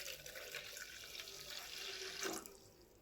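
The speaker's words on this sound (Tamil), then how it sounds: "இது கூட 1 கிளாஸ் தண்ணி ஆட் பண்ணுறேன்." A glass of water pours into a pot in one short, steady splash that rises briefly near the end, close and fairly quiet.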